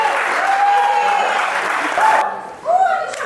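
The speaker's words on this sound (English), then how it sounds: "Ladies and gentlemen, let's give her another big round of applause" Guests at a wedding mehndi and welcome party applaud a performer. The steady clapping is fairly loud, has a tonal hum running beneath it, and drops away partway through before a brief rise at the end.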